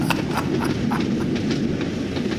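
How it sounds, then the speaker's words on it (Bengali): A fast-moving train rushes along with a steady, loud rumble, and rhythmic wheel clatter rises repeatedly over the continuous roar. No one speaks. "তখনও ট্রেন দ্রুত গতিতে দিশাহীনভাবে ছুটে চলেছে"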